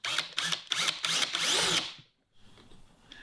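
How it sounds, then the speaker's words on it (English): A handheld power drill bores holes near the bottom of a pollen feeder in several close, loud bursts of whine, stops briefly, then leaves a quieter low hum. "we just want to drill some holes in the bottom here"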